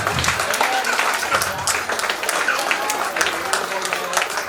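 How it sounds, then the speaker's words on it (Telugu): Sustained applause from an audience at a pre-primary school annual day and graduation ceremony, dense steady clapping filling the whole stretch with crowd noise and some voices mixed in. "ఆపకుండా కొట్టండి అన్న"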